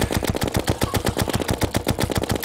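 Rapid automatic gunfire in modded Terraria, a fast, even stream of loud, close shots repeating without pause.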